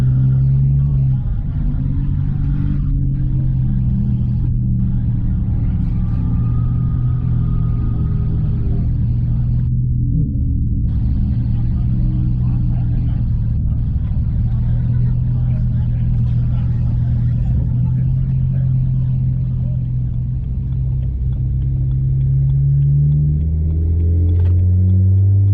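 Constant low, rumbling engine drone from a BMW 335i E92 heard from inside the car during driving, steady and loud throughout, with a voice talking over it and slight pitch shifts near the end.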